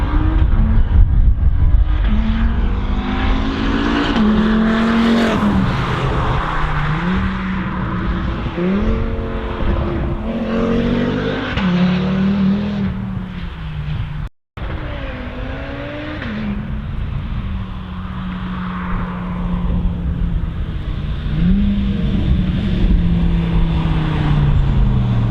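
An Audi RS3 with a Turbotechnique exhaust and its valve open drives on a road test, the engine note rising and falling through repeated gear changes, loud and close throughout with a brief dropout midway.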